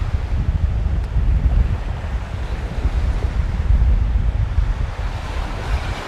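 Wind buffets the microphone beside the sea at Rasdhoo in the Maldives, a steady low rumble with surf washing underneath, continuous and fairly loud with no voices.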